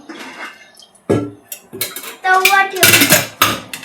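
Metal pots, plates and a griddle clatter and clink in several separate bursts, close by, as dishes are set down and stacked on a shelf one after another.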